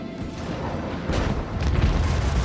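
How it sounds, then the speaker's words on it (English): Booming blast of a ship exploding in Rogue Trader space combat, a deep rumbling surge that swells midway and sustains with heavy low crashes. "That ship blew up"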